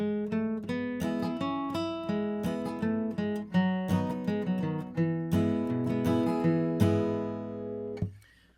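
Solo acoustic guitar picks the first main melody of a song in a steady, bright run of single notes over chord strums, close and clear, ending on a final ringing note.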